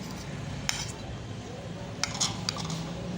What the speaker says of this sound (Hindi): अब मैं इन सारी चीज़ों को एक बाउल में मिक्स कर देती हूँ